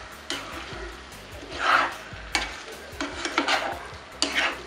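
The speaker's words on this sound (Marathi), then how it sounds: "एकदम हलक्या हाताने त्यांना आपण परतून घेणार आहोत." Ravas (salmon) fish pieces gently sautéed in masala in a pan, with soft spatula scrapes and light sizzling in a few separate strokes, close and clear with no talk.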